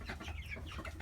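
A Sebright chicken on a small Maryland farm clucking softly in a brief, low murmuring run, faint and close, with no talk.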